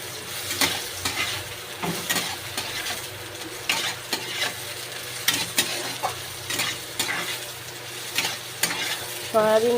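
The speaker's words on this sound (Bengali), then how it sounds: "সয়াবিনটা দিয়ে আমি একটু ভেজে নেব।" Soybean chunks fry in hot oil in a pan with a close, continuous sizzle, punctuated by regular clinking scrapes of a spatula stirring them, and no voices.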